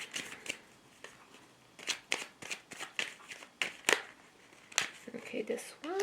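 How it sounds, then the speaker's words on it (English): Tarot cards from the Tarot of Mystical Moments deck are shuffled by hand in a series of crisp, papery riffles and flicks, close and fairly soft, arriving in uneven bursts with brief pauses; a voice is faintly present in the background. "this is the Tarot of Mystical Moments, and then I'll also get a card from the"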